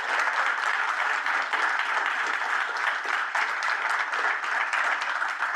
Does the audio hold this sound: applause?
yes